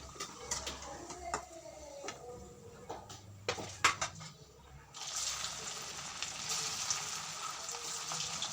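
Poha and potato cutlets fry in a pan, giving a low, steady sizzle with scattered clicks and clatter, the frying growing somewhat louder and denser in the second half.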